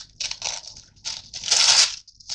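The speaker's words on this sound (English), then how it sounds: "So I'm just going to tear around the slippers, ensuring that I don't actually tear into the image" Paper being torn by hand around a stamped ballerina slippers image for a mixed media canvas, several short rasping rips in quick succession, close and crisp, with one longer tear near the end.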